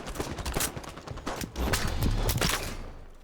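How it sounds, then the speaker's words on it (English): Rapid gunfire in Halo 5 free-for-all multiplayer, bursts of shots in dense overlapping volleys with a heavier low boom midway, loud and continuous throughout. "Putting some shots on blue elbow again."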